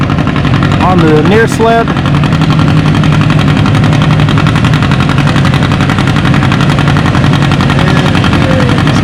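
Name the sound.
John Deere tractor engine pulling sled at tractor pull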